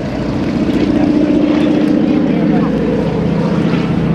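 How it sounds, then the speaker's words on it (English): A North American T-6 propeller aircraft passes with a loud, sustained buzzing drone from supersonic propeller tips, heard close at an air show with a steady rasping tone. "Propeller tips making that supersonic sound."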